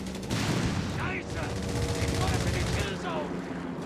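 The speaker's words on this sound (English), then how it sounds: "We have some strafe coming in." A strafing run in Company of Heroes 3 brings dense, continuous battlefield gunfire and rumbling blasts, with a commentator's voice running over the barrage.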